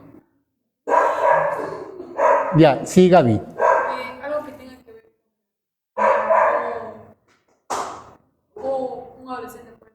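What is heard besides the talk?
small dogs barking loudly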